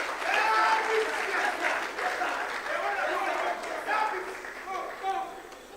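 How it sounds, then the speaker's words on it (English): Audience clapping for footballer Asamoah Gyan, the Baby Jet, at his autobiography launch, applause swelling then tapering while voices talk over it. "Can we clap for him, please?"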